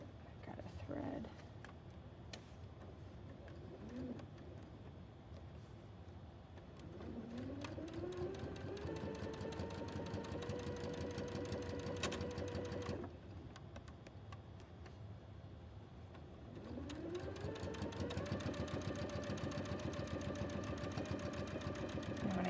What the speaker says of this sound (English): Get to the end, I'm going to back stitch a little bit.